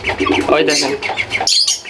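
A pet pigeon squawks and flaps while attacking its owner indoors, loud and close, its harsh calls mixed with a person talking over it throughout.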